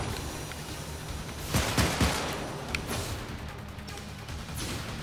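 Gunfire in the Syndicate video game, a short burst of several sharp shots in quick succession near the middle, over a steady noisy combat background, with no voices.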